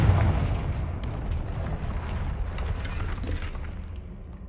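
A Confringo fire spell in Hogwarts Legacy goes off as a deep, rumbling blast that lingers as a continuous heavy roar with crackling debris, fairly loud and close throughout.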